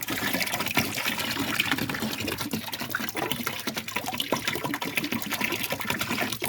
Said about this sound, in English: Just add your peroxide.